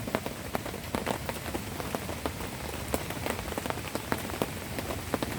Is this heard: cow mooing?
no